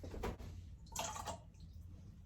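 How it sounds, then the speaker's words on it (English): Two tablespoons of water poured into a bowl of wet cake batter ingredients, eggs and olive oil, as two brief splashy trickles, close and fairly quiet, with no talk. "And then 2 tablespoons of water."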